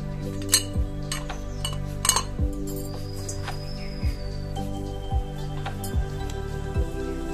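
A metal murukku press is oiled and loaded with rice flour dough, producing a series of light metallic clinks and taps, spaced irregularly over a constant low hum.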